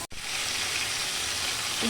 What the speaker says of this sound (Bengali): এই দেখো ভাজি